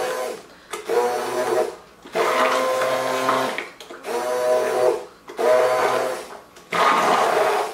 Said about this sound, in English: when I go to put my immersion blender in